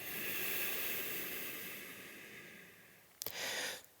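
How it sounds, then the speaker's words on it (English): Steady audible Ujjayi breathing during an Ashtanga yoga class, a long hissing breath filling most of the clip, then a brief pause and a stronger breath near the end; no talking. "continue with that Ujjayi breath, breathing with sounds"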